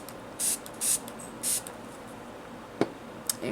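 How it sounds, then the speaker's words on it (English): Fix Plus setting spray misted onto a makeup brush, three short hissing bursts in quick succession, close to the microphone, followed by faint handling clicks. "spray it with some Fix Plus"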